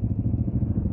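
A big dirt bike engine idles close by, a loud, steady, lumpy chugging with rapid rhythmic pulses and no other sounds.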